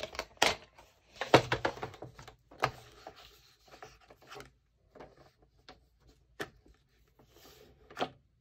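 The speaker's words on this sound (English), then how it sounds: "So we're going to cut this down on the long side to 9 1/4." Trimming a sheet of cardstock down to 9 1/4 inches along its long side for a mini album, giving a run of close, dry scraping and slicing strokes followed by a few scattered soft taps and rustles.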